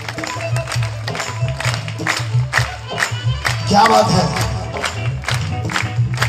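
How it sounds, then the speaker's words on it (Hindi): Audience at a live Shyam Baba bhajan kirtan claps in rhythmic bursts alongside music, with voices calling out over the steady clapping. "ऐसी ताली बड़े बड़े उत्सव में नहीं बजती है, बजाओ ना।"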